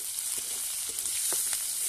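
Fenugreek leaves fry in hot mustard oil, giving a steady close bright sizzle with small pops and stirring scrapes throughout.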